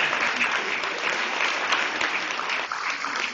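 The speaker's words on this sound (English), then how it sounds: "give him a clap" An audience gives a sustained round of applause at a talk on the historical impacts of Anishnawbe people, dense clapping held steady throughout without pause.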